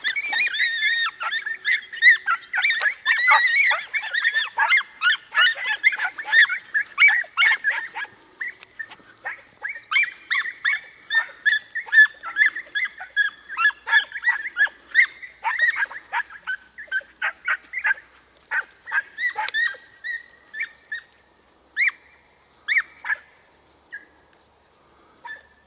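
Young Spanish hunting dogs yelp and bark excitedly while trailing and flushing a hare in scrubby hill country, with rapid, continuous high-pitched calls that thin into spaced barks toward the end, heard at a moderate distance.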